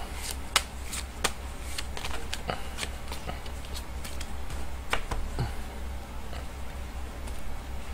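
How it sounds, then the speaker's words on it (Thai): Tarot cards are shuffled by hand in a quiet room, a run of soft papery riffles and sharp flicks, close and fairly faint, with no talking. "เดี๋ยวจะมาเสี่ยงไพ่ยิปซีดูให้เพิ่มเติมนะว่าดวงชะตาคุณในวันนี้จะเป็นอย่างไรบ้างนะครับ"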